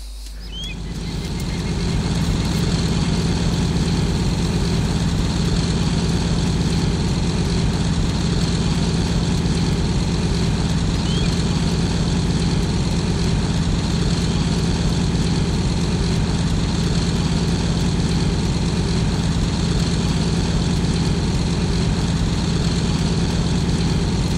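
A plane's engine in the video game DayZ, a steady, loud droning hum that starts up and holds constant for the whole stretch, with no talk.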